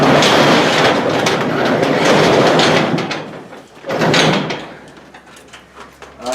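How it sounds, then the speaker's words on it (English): A garage door rolls open with a loud, sustained rattling rumble over several seconds, then a brief second clatter, while a 1971 Ranchero V8 engine idles low in the background. "We're gonna crack open the garage door"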